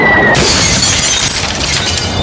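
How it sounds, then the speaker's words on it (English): A sudden, loud crash of a glass coffee table shattering, with bright fragments scattering and tinkling as the breaking sound fades out. "Now a stylish glass coffee table"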